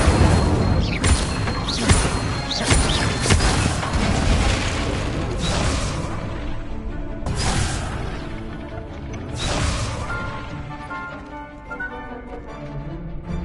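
Incendio fire spells cast in Hogwarts Legacy, several whooshing bursts and impacts amid clanking mechanisms and background game music, fairly loud and alone.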